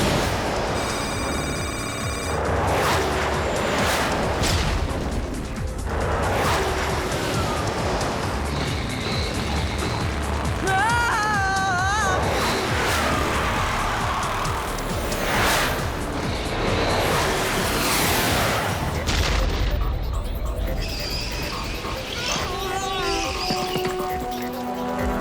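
Cartoon guided missiles whooshing and blasting inside a rock maze of ruins, a dense, loud run of explosions and rumbling effects filling the whole stretch, with shrill tones rising over the din.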